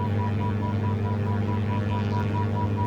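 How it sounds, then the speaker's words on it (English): A glider variometer in Microsoft Flight Simulator beeps in a steady, evenly spaced pulse over a continuous low cockpit hum. "And see, you can hear the vario right now."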